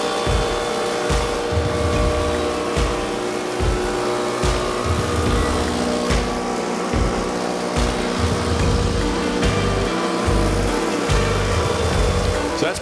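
A board feeds through a power planer, the motor's loud steady whine broken by rhythmic low thumps as the cutter bites the wood, continuing throughout without talking.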